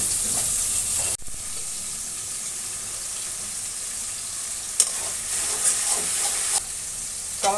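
Tomato and potatoes for aloo dum cook in a covered pan with salt, giving a steady close sizzle and a few clinks of the lid or utensil.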